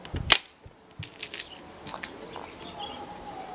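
Sharp air rifle, pump-cocked several times, firing a pellet outdoors, a single sharp crack near the start followed by faint bird chirps and quiet ambient sounds.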